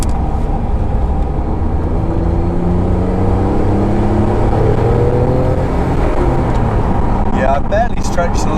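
A Noble M12 GTO-3R, a light sports car, pulls hard under heavy throttle, its engine note rising steadily in a long continuous drone from inside the cabin, with some wind and road noise underneath.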